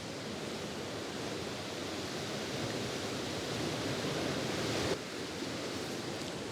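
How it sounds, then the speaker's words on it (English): Steady, dense rush of sea waves churning at a tidal pool at Shoalstone on a blustery day, continuous and fairly loud with wind mixed in and a brief surge near the end, no voices. "this week it's going to be about the motion of these waves"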